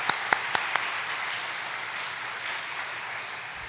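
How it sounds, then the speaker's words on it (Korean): A church congregation applauds children of the elementary department and their teachers, a dense wash of clapping from a large indoor crowd that starts with a few sharp claps and holds steady for a few seconds. "격려의 박수 한번 드리도록 하겠습니다."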